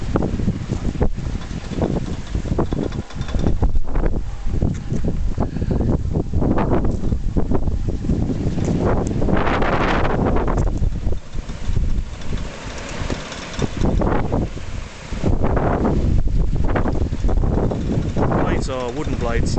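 Strong wind buffets a homemade wind turbine with wooden blades during a furling test, a loud continuous roar with gusts and microphone rumble, while someone talks over it.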